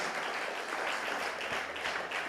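A church congregation claps loudly for the Holy Spirit, a continuous, fairly distant wash of many hands clapping.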